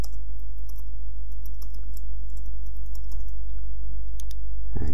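Computer keyboard keys tapped in a steady run while a file name is entered, close and clear over a constant low hum, with no voices.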